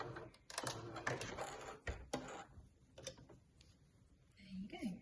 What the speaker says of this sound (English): And a little back stitch to finish off